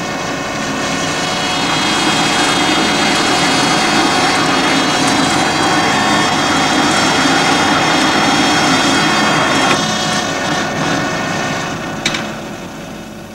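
A lathe turning work against a dead center with no grease, a loud, steady machine drone with a high whine that runs the whole time, then drops off slightly near the end.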